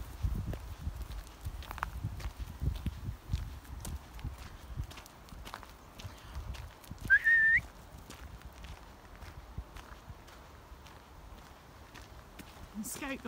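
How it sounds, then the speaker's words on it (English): A person walking dogs outdoors gives a brief, thin, rising whistle as a command to the dog, heard once near the middle over footsteps, rustling and steady outdoor movement. "you heard me whistle his command"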